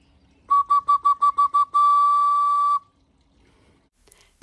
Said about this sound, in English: So I have a working whistle, but it isn't much to look at.